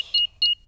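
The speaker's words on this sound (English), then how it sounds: "Switch the alarm back on." A security alarm keypad gives two short, clear electronic beeps of equal length, evenly spaced, as the system is switched back on in a cartoon house at night; quiet surroundings, no talking.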